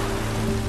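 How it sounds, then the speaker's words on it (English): Heavy rain pours steadily in The Witcher 3, a dense, even wash of downpour hiss with a low hum beneath, constant and close for under a second. "This downpour."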